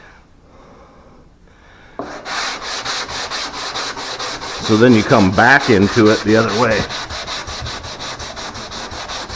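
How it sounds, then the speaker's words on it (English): A wooden 2x4 block sands a car body line with steady back-and-forth rasping strokes, loud and close. Someone speaks briefly over the scraping. "See how I'm talking sanding up to the line Yeah. versus down from the line?"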